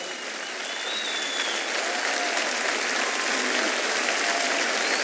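A standing crowd in an open-air plaza at the Cosquín folk festival gives a sustained ovation, a thick wash of applause that stays loud and even from start to finish with no talk over it.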